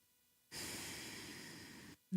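One long, deep breath during a yoga posture for spinal health, a steady airy exhale lasting about a second and a half in a quiet room, followed by a brief low sound.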